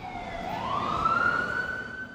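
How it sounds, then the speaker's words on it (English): An emergency vehicle siren on a New York City street wails steadily, its tone sweeping upward and holding high, loud and fairly close over low traffic rumble. "There's so many variations of a siren that you could experience in the city"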